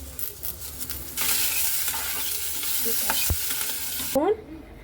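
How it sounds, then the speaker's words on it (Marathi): Pizza ingredients are lightly fried with a little salt in a pot, giving a steady close sizzle with scraping stirs that swells after the first second and ends in a sharp knock. "आपण याला हलकं थोडं फ्राय करून घेणार, शिजून नाही घेणार आपण त्याला, फक्त हलकं फ्राय करून घेणार"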